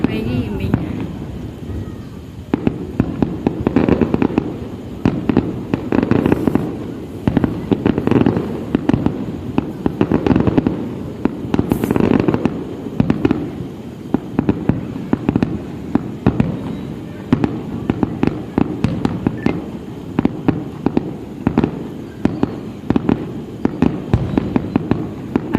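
A Vietnamese fireworks display goes off in a continuous barrage of booms and crackling bursts, loud and dense throughout, with voices exclaiming in the background.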